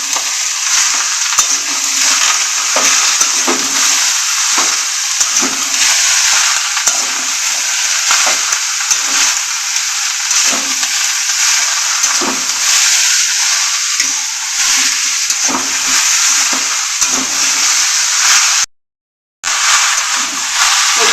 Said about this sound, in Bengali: বেগুন, মূলো, আলু, শিম দিয়ে দিচ্ছি। দিয়ে আমি কিছুক্ষণ নাড়াচাড়া করে নেব